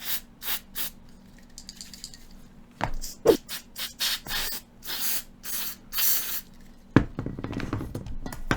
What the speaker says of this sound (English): Spray some of this on there, electronics cleaner.